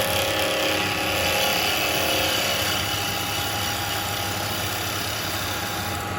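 A woodturning lathe runs steadily at just over 2,000 RPM, giving a loud, even motor hum and whir with no breaks and no talking.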